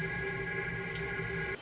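Stretched pad built from recorded leaves and foliage, processed through an effects chain into a sustained, airy tonal drone with bright shimmering upper layers, steady and even before cutting off abruptly at the end.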